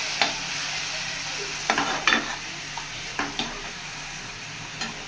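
Green chili, coriander and mint paste frying with onions in a pan, a steady close sizzle broken by several sharp stirring scrapes and clinks of a spoon against the pan.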